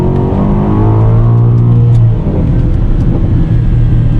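A 2021 Aston Martin DBX SUV accelerates hard, heard from inside the cabin: a loud, steady engine drone with rising tones and a constant road rumble beneath, and no one talking.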